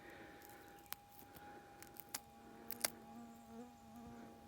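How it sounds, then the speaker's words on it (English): A mosquito buzzes faintly near a gold prospector working a metal-detecting spot in the bush, a thin whine amid quiet outdoor ambience with scattered small clicks and taps. "Mosquito over here."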